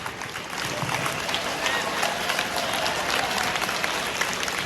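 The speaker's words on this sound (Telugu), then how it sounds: "మీకు మీరే చప్పట్లు" A room of school students applauding themselves after singing, sustained crowded clapping that swells quickly and keeps a steady, busy patter throughout.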